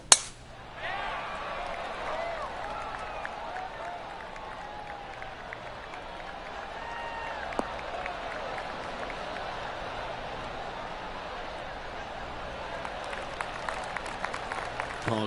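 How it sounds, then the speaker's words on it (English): Polite gallery applause from a golf crowd in a PS4 golf video game on a par 5 in the final round, a sustained, even patter of many distant hands lasting throughout. "Oh, golf clap."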